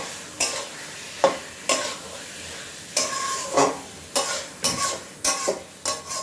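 Chicken pieces coated in spices being stirred in a hot pan for Kashmiri chicken kanti, with brisk scraping strokes about every half second over a steady sizzle, close up and without talk.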